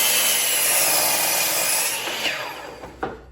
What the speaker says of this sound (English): and let's saw.